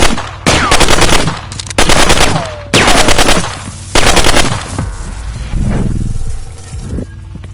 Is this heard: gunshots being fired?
yes